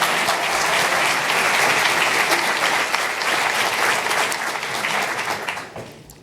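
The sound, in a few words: audience applause at graduation ceremony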